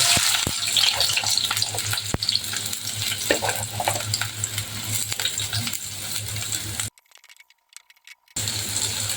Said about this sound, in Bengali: এখন আমি তেল গরম হয়ে গিয়েছে এখন আমি পেঁয়াজ কুচি দিয়ে দেব